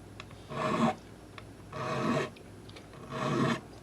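A metal file scrapes across a guitar part in three distinct rasping strokes, each about half a second long and evenly spaced, close and clear with no talking.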